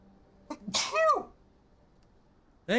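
One loud, close sneeze with a short sharp intake followed by a forceful burst, alone against quiet background during a live game stream.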